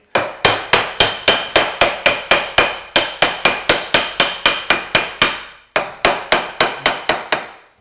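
A tapered sliding dovetail joint in wood being hammered apart, a long run of loud, evenly spaced sharp blows close by, with one brief pause before the rhythm resumes.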